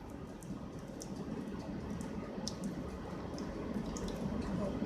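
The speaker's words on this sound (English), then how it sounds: "We'll take out the excess water here to make the sauce." Excess cooking water is poured off cooked Chinese-style cabbage rolls in a kitchen, giving a steady, quiet, continuous trickling wash with faint drips.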